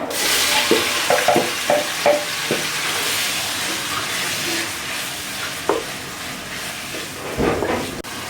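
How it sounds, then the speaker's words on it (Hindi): Minced meat dropped into hot oil, bursting into a loud, dense, hissing sizzle that holds steady throughout, with a few scraping stirs and clicks early on, close and without talk. "ऑयल जो है हमारा गर्म हो चुका है। अब हम इसमें कीमा ऐड कर देंगे।"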